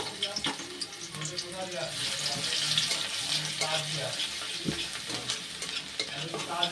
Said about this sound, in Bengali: এবার এই তেলের মধ্যে দিয়ে দিচ্ছি থেতো করে নেওয়া রসুন।